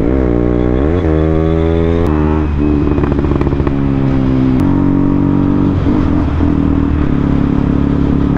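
A motorcycle accelerates hard through the gears up to sixth, each shift marked by a brief drop, then a climbing engine whine. It is loud and close, with clattering mechanical noise.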